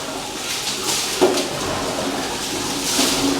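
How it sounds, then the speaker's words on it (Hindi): Water is poured over a person's body during a bath, a steady close splashing wash that runs for a few seconds with a slightly louder surge near the end. "चलिए अब पानी डालिए"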